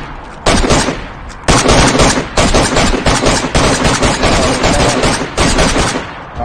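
Automatic gunfire in the survival video game DayZ: loud, rapid bursts of shots, close and nearly continuous, with short gaps between volleys.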